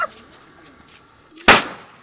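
A single sharp firecracker bang bursts out loud and close near the end, after a quiet stretch, during a Narayan Puja celebration in Nalbari, Assam; a brief noise opens the clip.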